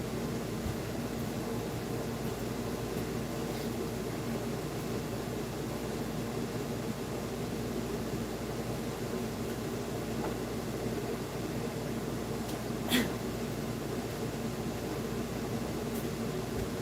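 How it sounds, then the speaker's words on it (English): Air conditioner running indoors in June, a steady broadband whooshing hum with a low mechanical drone, unchanging for the whole stretch apart from one faint tick near the end, with nobody talking. "if I turn off this air conditioner"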